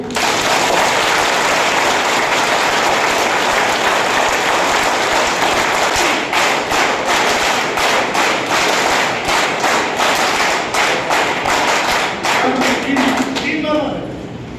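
A large crowd at a political rally applauds loudly and continuously, dense clapping with scattered sharp claps as it gradually tapers off at the end.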